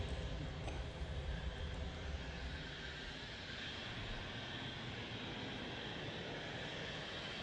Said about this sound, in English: Next out is Cessna, a little citation.